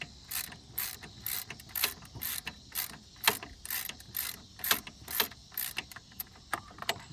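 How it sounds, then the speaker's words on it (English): Ratchet tightening a bolt on the alternator of a 2006 Ford Taurus with a 3.0L engine: a steady series of sharp, close metallic clicks in quick rhythmic strokes, fairly quiet, with no voices. "You're gonna tighten it up all the way yet."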